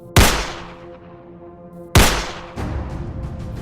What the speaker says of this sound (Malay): Serentak dengan itu, kedengaran bunyi tembakan dari luar pondok.